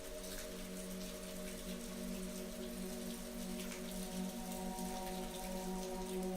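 Steady rain pouring outside on a rainy night at a hotel, a continuous even hiss with patter, alone with no talk, though steady low tones run beneath it.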